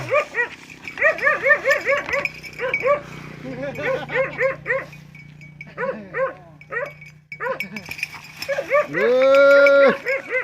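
Water buffalo mooing repeatedly at a farm, several drawn-out lowing calls close by, the last one loud and long, with dogs barking intermittently and people talking throughout.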